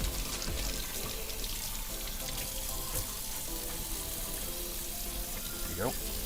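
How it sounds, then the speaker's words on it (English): Tap water runs steadily into a sink as fresh produce is rinsed in a firehouse kitchen, a continuous close hiss and splash with faint background voices and kitchen clatter. "Always a good idea to wash your produce."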